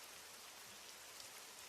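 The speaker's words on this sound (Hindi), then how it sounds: "बारिश तो बंद नहीं हो रही है" Soft, steady rain patters continuously at a night-time camping spot, low and even with no voices.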